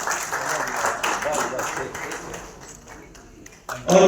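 An audience at a national seminar on new income tax and GST provisions claps to honor a speaker, a sustained patter of applause that fades and then breaks into louder sound at the end, with talking mixed in.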